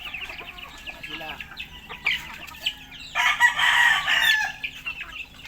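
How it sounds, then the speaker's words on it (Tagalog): Chickens cluck and a rooster crows close by, with a loud burst of crowing partway through over scattered farmyard calls. "Alagaan yung mga manok natin na yan."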